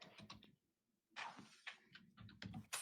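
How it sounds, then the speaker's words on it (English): Computer keyboard typing, quiet and close, made of quick clusters of key clicks with short pauses between them. A few soft voice sounds mix with the clicks. "Hearing Alec typing"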